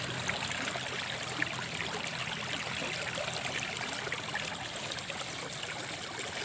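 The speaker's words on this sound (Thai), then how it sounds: "ปรากฏการณ์น้ำไหล" Steady rushing water flows continuously, a broad even hiss like a stream or small cascade with no pauses.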